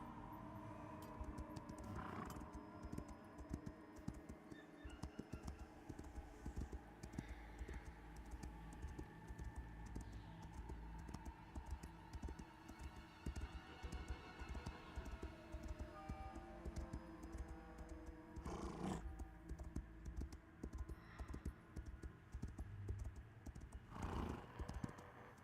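Video game horse hooves clip-clop in uneven runs with occasional neighs, mixed with fast clicking of keyboard typing, all fairly faint and continuous.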